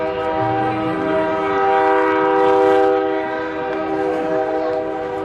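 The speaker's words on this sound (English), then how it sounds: "we get the trains here in Destrehan." A train rolls past a high school baseball park in Destrehan, its horn blaring in a long, loud, steady chord that swells and fades over several seconds above the rumble of the rail cars.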